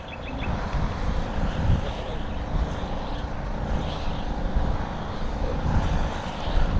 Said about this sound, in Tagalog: Magastos lang kasi dalawang makina umaandar